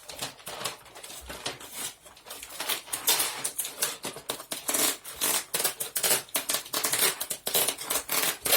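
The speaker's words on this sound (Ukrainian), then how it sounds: "беру я скотч і замотала скотч" Adhesive tape is pulled off the roll and wound around a food bouquet in a string of close, crackling, screechy bursts. No one speaks.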